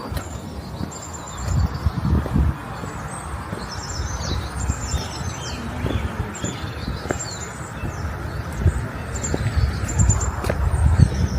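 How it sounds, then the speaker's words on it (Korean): Scattered high bird chirps and short song phrases carry over a steady outdoor hiss on a hilltop near Mary's House in Ephesus, Turkey, faint and somewhat distant, with no voices. "새소리가 좋으네요."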